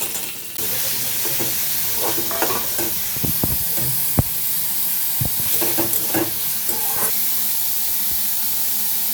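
Ginger and whole spices, cloves and cinnamon, sizzle steadily in hot ghee for a pilaf, a continuous frying hiss broken by scraping stirs and small pops of the spatula in the pan.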